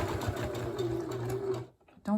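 A sewing machine runs steadily as it stitches a three-layer fabric face mask, a close, even mechanical whir that stops abruptly near the end, with a voice talking over it.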